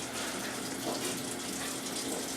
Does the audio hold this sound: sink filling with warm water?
yes